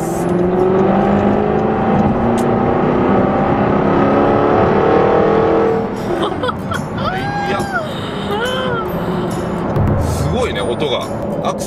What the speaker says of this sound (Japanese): 音がアクセル離した後に後ろがバババババって花火が散ってる